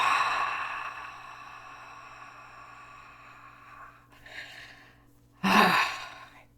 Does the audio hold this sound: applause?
no